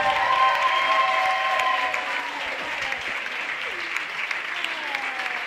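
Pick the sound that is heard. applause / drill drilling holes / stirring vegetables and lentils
applause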